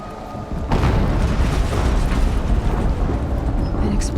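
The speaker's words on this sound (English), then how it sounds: "An explosion." A loud explosion in Horizon Zero Dawn bursts in after a short quiet moment and rolls on as a heavy, sustained roar that fills the rest of the stretch.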